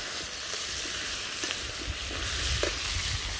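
Potato, papaya and vegetable pieces sauté in a pan, a steady close sizzle and hiss with a few soft stirring scrapes.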